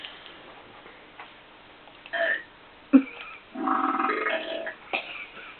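Short human burps come in a few separate bursts, one abrupt and sharp near the middle and a longer croaky one after it, close up and moderately loud with quiet pauses between.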